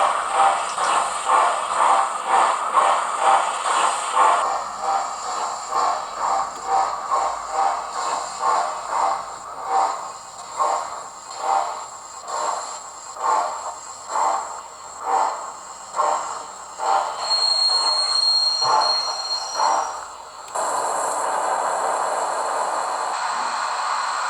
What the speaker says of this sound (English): I decided to make a video of my Flying Scotsman model as it prefers to leave the shed area and take up its duties.